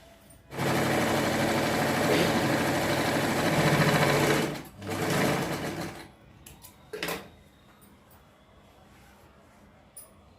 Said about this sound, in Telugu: తర్వాత అడుగున లెగ్గుకి బాటము ఇలా మర్చి స్టిచ్ చేసేస్తాము